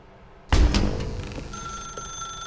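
A telephone in The Stanley Parable video game starts ringing abruptly after a heavy thump. A steady electronic tone runs under the ringing, which continues without speech.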